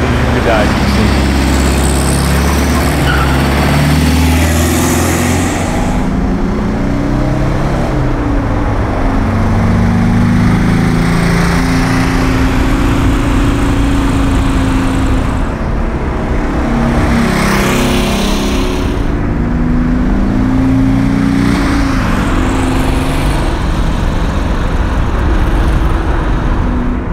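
An Envemo Super 90 fitted with a Porsche 356 engine drives at night in São Paulo, its engine droning and shifting pitch as it revs, under fairly continuous talk inside the car.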